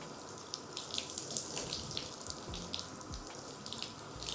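Water runs steadily from a tap over a bathtub, splashing as Coca-Cola is rinsed out of a person's hair. The flow is continuous and fairly close, with small shifting splashes and no talk.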